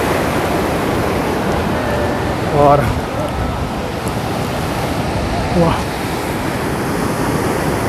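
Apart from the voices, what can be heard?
waterfall of melting glacier water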